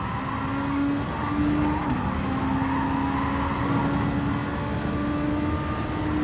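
A Super Formula SF2023 race car in a racing game accelerates around Suzuka after a downshift to fourth, its engine a loud, continuous high-revving drone with steady tonal whine throughout.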